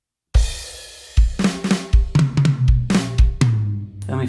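A drum kit plays flams on the snare and single tom hits with kick drum strokes between them, a loud, close, slow sequence of sharp hits.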